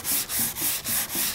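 A sanding block is pushed back and forth over an auto body panel being refinished, giving five even, rhythmic abrasive strokes with brief pauses between them, close and without talk.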